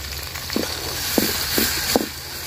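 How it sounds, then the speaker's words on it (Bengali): Onions fry until reddish-brown, sizzling steadily in a hot pan, with a few sharp clinks of a spoon scraping the pan over the frying hiss. "পেঁয়াজটা আমি লাল লাল করে ভাজা নিচ্ছি সুন্দর করে।"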